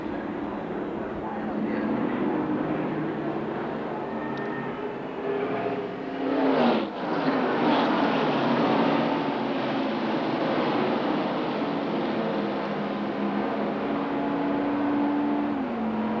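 The field of race cars roars off at the start of the 1991 Daytona 500, a massed engine drone that swells as the cars sweep past close by midway, then settles into a sustained, distant howl.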